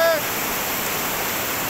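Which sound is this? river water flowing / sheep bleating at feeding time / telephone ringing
river water flowing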